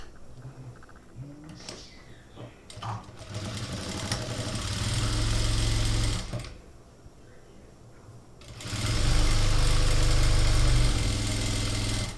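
A sewing machine stitches a kurti with a steady mechanical whirr and low hum. It drops off briefly midway and then resumes loudly.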